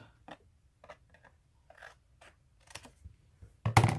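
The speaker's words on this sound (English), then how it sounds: "Well, maybe just cut off that." Scissors snip paper for a scrapbooking journal envelope, giving a few short, separate cuts in a quiet room, then a louder rustle of paper handling at the end.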